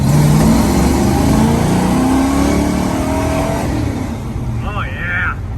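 A Ford Foxbody Mustang engine revs hard in second gear, loud and close, its pitch rising steadily over several seconds before easing off, with a faint high whistle near the end.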